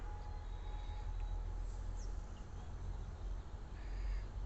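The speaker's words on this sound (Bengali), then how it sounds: "চারিদিকে পাখির কিচিরমিচির শব্দ" Faint bird calls, a few scattered chirps and caws, drift over a steady low outdoor rumble.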